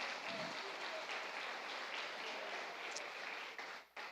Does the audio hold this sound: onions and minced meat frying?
no